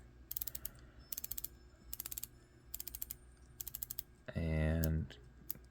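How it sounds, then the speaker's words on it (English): A watch bezel on an NH72 skeleton build clicks around in rapid ratcheting bursts, six short runs of crisp close clicks, followed by a brief loud tonal hum. "Bezel is a clicky style, and it clickies this way."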